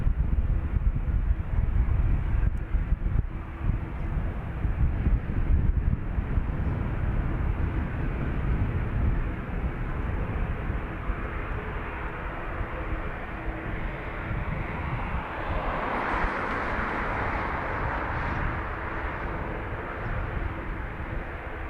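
A heavy Antonov An-124 cargo jet at Dublin Airport, its engines a broad, steady rumbling roar heard from a distance throughout, swelling slightly toward the end, mixed with wind buffeting the microphone.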